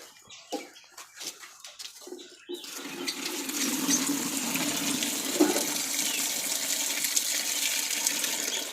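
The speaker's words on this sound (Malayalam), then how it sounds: "ഇതിൽ കുറച്ച് വെള്ളം പറഞ്ഞു കൊടുക്കാം നമുക്ക്." Water is poured into a container for pet turtles, a steady rushing, splashing stream that starts after a few soft knocks and continues at an even level.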